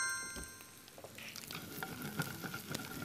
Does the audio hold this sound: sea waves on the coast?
no